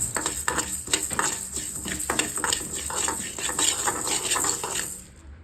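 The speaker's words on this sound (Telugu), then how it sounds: "సో ఆ ఫ్రై చేసిన తర్వాత మనం కొంచెం దించే ముందుగా గసగసాలు వేసుకొని ఫ్రై చేసుకోండి" Coriander seeds and poppy seeds dry-frying in a pan for Andhra-style fish curry masala, with a steady sizzle, scraping stirs and clinks of a spoon against the pan, then a sudden stop at the end.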